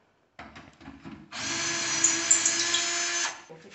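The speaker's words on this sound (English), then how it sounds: "So you hold on tight to the drill just in case." Power drill working on a car wheel's lug nuts during a summer-to-winter tire change: a brief lower whir, then a loud sustained high-pitched whine for about two seconds that stops abruptly, with no talk.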